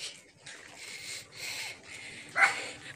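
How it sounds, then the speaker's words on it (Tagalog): Dogs bark in short, repeated bursts outdoors, mid-distance and moderately loud. A voice mixes in with the barking, and one sharper yelp stands out near the end. "Dami ng aso,"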